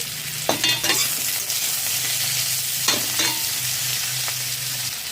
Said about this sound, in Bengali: মিডিয়াম ফ্লেমে তিন মিনিট ভেজে নিয়েছি